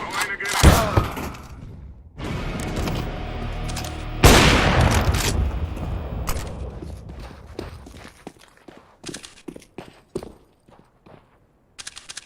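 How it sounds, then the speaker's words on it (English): A grenade thrown and exploding in CS:GO, with a sharp early crack, then a loud boom with a long decaying rumble, followed by footsteps and scattered thuds, while voices talk in the background. "Throwing a grenade."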